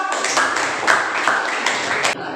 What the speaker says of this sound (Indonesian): tepuk tangan untuk Desa dulu